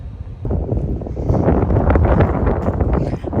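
Loud wind rushes and roars against the microphone in a continuous, blustery wash.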